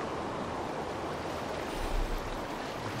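Ocean waves heard while sailing a longship in the video game Assassin's Creed Valhalla, a continuous dense wash of surf and water noise with a slight swell near the middle, no speech.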